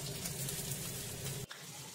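Fish sizzles and fries steadily in hot oil, close and continuous, then cuts off sharply near the end.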